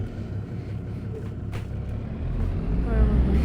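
An old Fendt tractor engine in a farming video game drones low and steady, growing slightly louder and heavier toward the end, with no talk over it.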